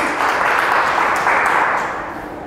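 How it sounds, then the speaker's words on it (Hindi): An audience claps together at a Hindi talk on emotional engineering, a dense, loud burst of applause that holds steady and then begins to fade. "तालियां।"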